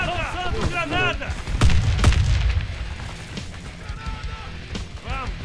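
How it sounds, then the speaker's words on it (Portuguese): Warface grenade blast in a clan war match, heard as a loud booming burst amid scattered gunfire, with voices talking over the action. "Granada!"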